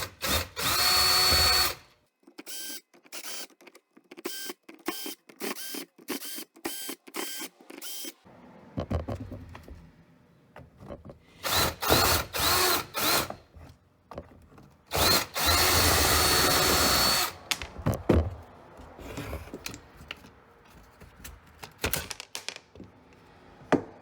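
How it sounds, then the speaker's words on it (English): A Ryobi cordless screwdriver backs out Torx T10 screws from a plastic case in repeated short whirring bursts separated by pauses, close and fairly loud, with no talk. "we'll take them all apart using our other Ryobi screw gun"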